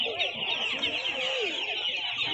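Chickens for sale at a market give off continuous clucking and rooster-like calls, close and fairly loud, with steady busy chatter underneath.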